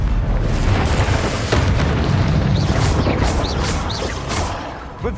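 Confringo blasting spells explode repeatedly in Hogwarts Legacy gameplay, heavy booming blasts in a loud continuous barrage with crackling bursts and short whooshing streaks layered over a rumbling low end.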